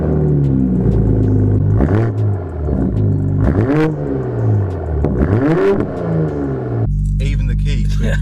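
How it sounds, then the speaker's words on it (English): A new Toyota Supra engine cranks and fires, then revs in several sharp blips that climb and fall back to a loud, close idle rumble, with brief clatter and a person speaking over it near the end. "Start the engine."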